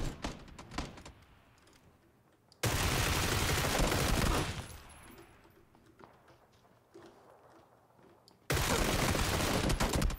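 Automatic gunfire in the video game PUBG, two loud sustained bursts of rapid shots separated by quieter scattered clicks and footsteps, with no talk over them.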